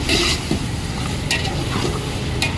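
Chili powder sizzles in hot oil in a pan for Telangana-style goat head and chicken fry, with a loud, continuous close fry and scraping stirs of a spoon punctuating it.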